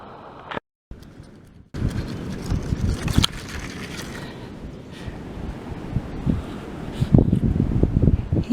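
Wind gusting outdoors during an Earth Day walk, a steady broadband rush with buffeting against the microphone, rising and falling in strength and loudest toward the end, with no talking.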